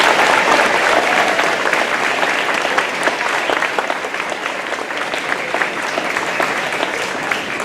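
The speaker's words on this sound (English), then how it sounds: "Can we give these students a round of applause?" Sustained audience applause for string students at a school strings concert, loud at first and thinning slightly as it continues, with no talking over it.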